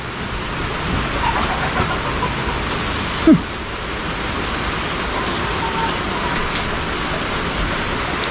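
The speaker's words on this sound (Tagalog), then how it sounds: "Iba yung panahon dito sa amin, pa bugso yung ulan" Gusty rain falling steadily and fairly loudly outdoors, a continuous dense hiss with slight surges, broken by one brief sharp knock partway through.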